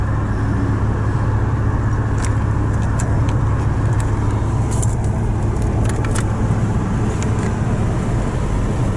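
A car drives home along a road, with a steady loud engine and road rumble filling the whole stretch and a few faint clicks and rattles in the cabin.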